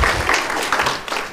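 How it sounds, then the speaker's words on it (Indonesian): An audience at a school class drama festival claps in a brief, dense burst of applause, close and fairly loud, after a tenth-grade class performance. "Boleh sekali lagi tepuk tangan untuk 10 IPS 2"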